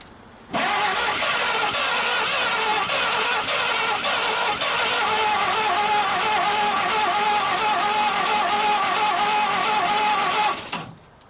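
A 1939 Chevrolet Master engine cranks steadily after decades of sitting, firing weakly now and then as it tries to catch, a continuous loud rhythmic churn for about ten seconds before it stops.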